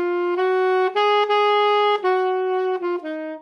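A saxophone plays the melody of a song in a plain, undecorated style, with sustained single notes moving stepwise and a few short breaths between phrases, close and clear.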